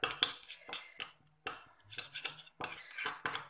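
Metal utensils clink and scrape against a bowl while salad ingredients with lemon and broccoli are tossed together, a series of close, sharp clatters in short bursts with brief pauses between.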